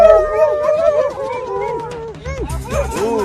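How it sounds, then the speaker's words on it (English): Labrador dogs howl and yip close by in a drawn-out, wavering chorus that rises and falls, with a person talking over part of it. "Good boys, good boys. Who's BB's best lab dog?"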